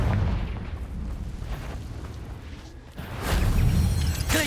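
Blasting-spell explosions in the Hogwarts Legacy video game: loud booming bursts amid battle noise, with a heavier blast near the end, no talking.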